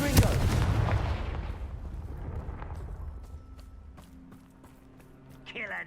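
A Confringo fire spell cast in the Hogwarts Legacy video game erupts in a loud, booming blast that slowly decays into rumbling crackle, followed by a brief whooshing flourish near the end.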